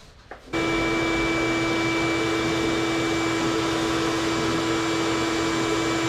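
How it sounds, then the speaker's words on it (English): A vacuum cleaner switches on after a short handling noise and then runs as a steady, loud, close whine with a droning hum while it pulls fuel fumes from a Chevy C10 fuel line. "What happened was I was vacuuming it up."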